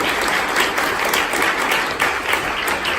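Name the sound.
audience applause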